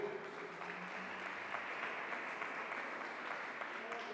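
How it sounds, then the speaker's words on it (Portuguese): A church congregation at a family worship service applauds with soft, steady clapping that sounds distant and fairly quiet, holding evenly for about four seconds. "Paloma, a gente te aplaudiu, viu?"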